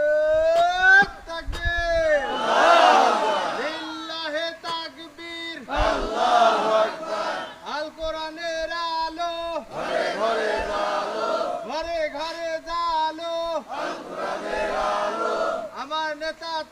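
Massive rally crowd at Suhrawardy Udyan in Dhaka chanting takbir in unison, with long drawn-out collective shouts rising and falling in repeated waves, loud and echoing across an open ground.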